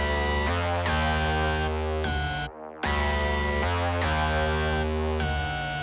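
A bright, buzzy synth lead with distortion and effects plays a sustained melody of held notes, with a brief gap midway.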